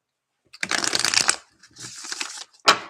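Tarot cards being shuffled in the hands, two rustling riffles followed by a sharp snap as the deck squares up, close and fairly quiet with no talking.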